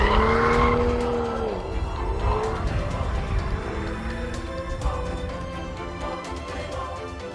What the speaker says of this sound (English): that, children, is how you drift